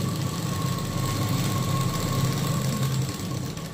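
A sewing machine runs steadily while stitching a prince cut blouse, a close, continuous motor whir with a fast, even mechanical chatter and no pauses.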